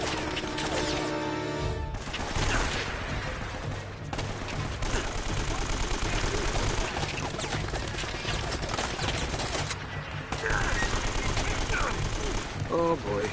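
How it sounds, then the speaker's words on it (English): Constant, heavy .50 cal machine gun fire from the Uncharted: Drake's Fortune video game, a dense, loud barrage that runs almost unbroken, with a couple of brief gaps and crashing impacts mixed in. "that 50 cal at the top is like it's shooting just constantly"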